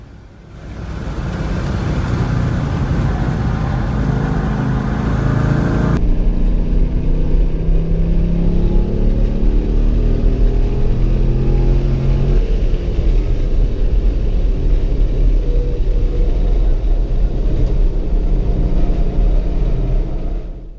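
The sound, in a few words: Corvette C5 and turbocharged BMW E36 M3 racing on track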